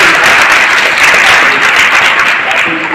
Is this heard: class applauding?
yes